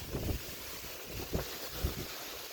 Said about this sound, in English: this wind done really picked up. It's really whooping this tree here.